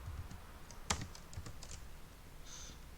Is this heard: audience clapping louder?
no